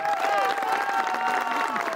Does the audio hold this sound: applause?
yes